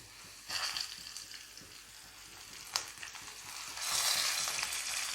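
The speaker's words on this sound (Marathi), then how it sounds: "यामध्ये आपण हे मासे फ्राय करून घेऊयात" Tilapia fish pieces frying in a few spoons of oil in a pan over low heat, giving a steady close sizzle with brief stirring or turning noises and a louder crackling swell near the end.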